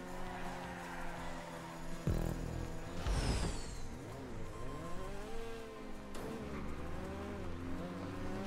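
Tyres squeal as a car slides through a GTA 5 video game race, with a rising screech around three seconds over steady engine noise and game sound, no talking.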